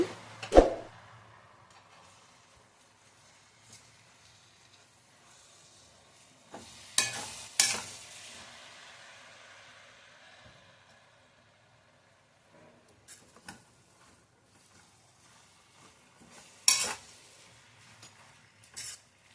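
Greens for huli soppina gojju being turned over in a pan on low heat, with scattered scraping and stirring clatters and a faint sizzle between them, fairly quiet with long pauses.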